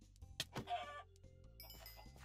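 Chickens cluck in a farming video game with a cafe, fishing hut and mining, several short bird calls repeating over a steady game soundtrack, fairly close and moderately loud.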